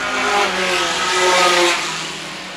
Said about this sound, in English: compare the sound of the two Lotus 7s that are running second and third